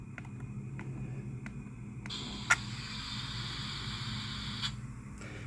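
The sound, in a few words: model railroad car sound of air bleeding off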